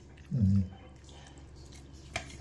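A short burst of water pouring into a metal pressure cooker holding green chillies, lasting under a second, followed by quiet room noise and a faint clink.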